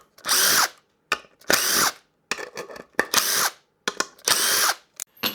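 A screwdriver, apparently powered, removing the neck from an LP Junior guitar, whirring in five loud bursts of about half a second each, separated by short pauses, with no talk.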